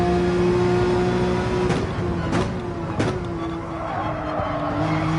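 A Gran Turismo 7 race car on a hot lap holds a steady, droning engine note, with several brief tire squeals and skids breaking in over the continuous roar.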